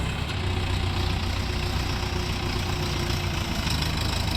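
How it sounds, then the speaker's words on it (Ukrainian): An Orion RF 404 compact diesel tractor idles steadily up close, a low continuous rumble with a faint mechanical knock and no voices. "Відвантажимо тракторця Orion RF 404."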